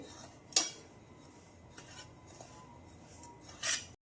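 Semolina (rava) dry-roasting in a pan over low heat for upma, quiet soft scraping with a few sharp metallic clinks of a spoon against the pan, sparse and close.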